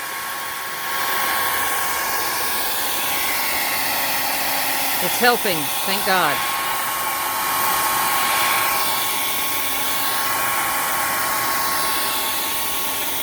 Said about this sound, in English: So I employed the hair dryer.